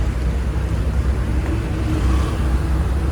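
Road traffic rumbles steadily in Bhiwandi, a close, loud, continuous wash of engine noise and passing vehicles with no clear voices.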